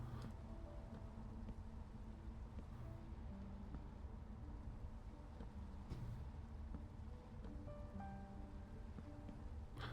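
Steady rainfall in Minecraft, a constant dense hiss filling the whole stretch with no pauses and no voices, while faint tonal music notes drift quietly beneath it.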